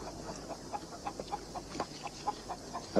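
Chickens cluck softly in a garden setting, a scatter of short, quiet, irregular clucks over steady outdoor background noise, with no one speaking.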